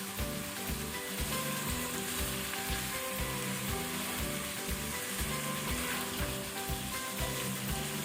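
Chicken pieces frying in a spiced tempering over a high flame for a dry chicken dish, a steady loud sizzle that runs throughout with no pauses and no voices.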